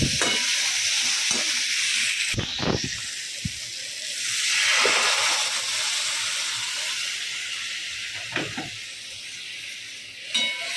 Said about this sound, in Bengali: তরকারিটা চটপট বসিয়ে দিই দেরি হয়ে যাচ্ছে